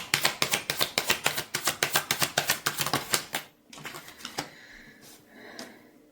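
Tarot cards are shuffled in a rapid run of crisp, close clicks that cut off after about three seconds. A few softer card flicks and rustles follow, with no talk.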